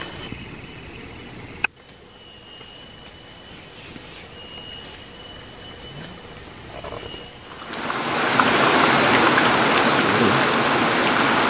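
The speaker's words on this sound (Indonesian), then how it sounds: "Sayang ya bang, hari hujan" Rain begins falling in a forest setting during a hunt for mountain imperial pigeons: a quiet, faintly humming outdoor background gives way to a dense, steady hiss of rain that holds loud to the end.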